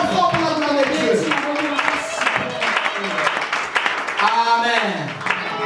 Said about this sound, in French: Applaudissons très fort pour la gloire de Dieu